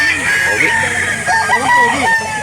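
At a chicken market in Calauan, Laguna, a rooster crows loudly and close by in one drawn-out call, over faint background market chatter.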